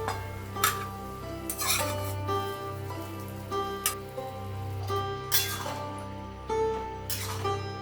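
A lid lifted off a pan and fried egg added while cooking egg tadka, heard as several distinct clinks and clatters of metal cookware over a steady low kitchen hum, with no talking.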